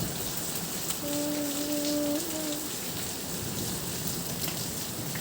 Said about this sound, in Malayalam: പക്ഷേ ഉണ്ടോ അത്ര മഴ പെയ്ത് നിൽക്കുകയാണ്